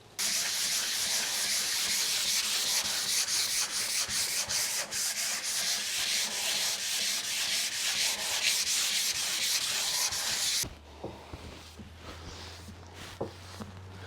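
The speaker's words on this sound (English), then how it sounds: "So let's get to sanding." Steady, continuous rasping of sandpaper rubbed back and forth over wood for about ten seconds, close and fairly loud, then stopping to a quiet hum.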